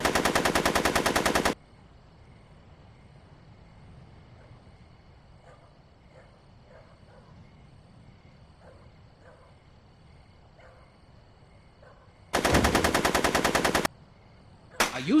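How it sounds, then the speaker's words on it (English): Rapid automatic gunfire in the Back to the Future video game, two loud sustained machine-gun bursts at the start and near the end, with a quiet stretch of faint background between them. "Are you shooting at me?"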